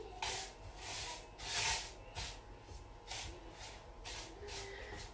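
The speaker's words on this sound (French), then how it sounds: "Je vais mélanger." Salt, baking powder and granulated sugar stirred together in a bowl, soft repeated scraping and shuffling strokes in an uneven rhythm, close and fairly quiet.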